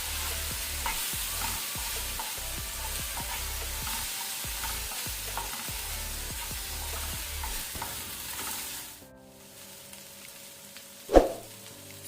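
Spicy prawns with tomato sauce and soy sauce are stirred in a pan, producing a regular run of close scraping strokes over a soft sizzle, then a brief lull and a single clunk near the end.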